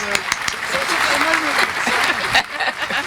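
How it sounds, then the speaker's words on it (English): A round of applause from a gathered group at a community celebration weekend, clapping mixed with voices and chatter, fairly close and lively. "I'm going to give you a round of applause."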